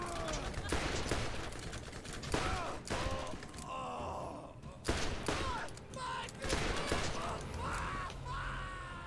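Enemy gunfire in the Borderlands video game, a busy crackle of rapid shots mixed with groans and gasping voices in a hectic firefight.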